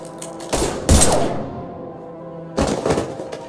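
Gunfire from a shootout in Mass Effect 3: two loud bursts of shots with thumping impacts, one around the first second and another near the end, with a quieter lull between.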